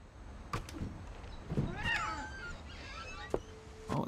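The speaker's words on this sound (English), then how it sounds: "I hear a cat" A cat meows a few times in the video game What Remains of Edith Finch, with clear, drawn-out mid-pitched cries standing alone over a quiet room tone.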